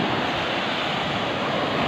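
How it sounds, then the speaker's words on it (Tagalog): Strong sea waves at a fishing shore, a loud, continuous roar of surf mixed with wind buffeting the microphone, steady and close for about two seconds with no voices. "Sobrang lakas ng alon."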